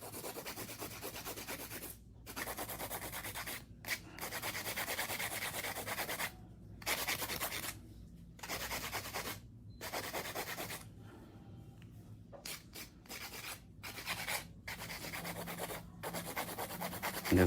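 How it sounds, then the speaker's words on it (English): A hand file rasps back and forth across a fingernail while shaping it, giving a soft, close, scratchy rubbing in repeated strokes broken by brief pauses. "Hand filing is definitely more efficient than using a drill."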